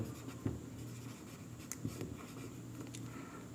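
Pen or pencil writing out a Class 8 math solution on paper, a faint scratchy stroking with a few light taps, close and quiet, with no talking.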